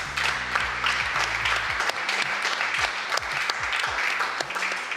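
An audience at a digital marketing agency awards ceremony applauds the nominees with sustained, even clapping over quiet background music.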